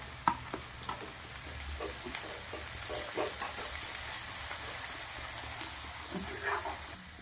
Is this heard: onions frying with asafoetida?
yes